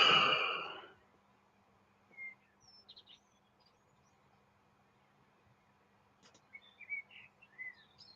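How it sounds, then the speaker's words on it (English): A loud rushing burst at the start gives way to near silence, then birds outside call in sparse, faint chirps and short tweets, growing busier toward the end against a faint steady hum. "So many bird sounds outside."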